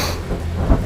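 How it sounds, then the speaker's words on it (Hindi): Heavy rain falling in a steady loud wash, with a deep rumble swelling briefly near the end, close and continuous. "बहुत बारिश हो रही है"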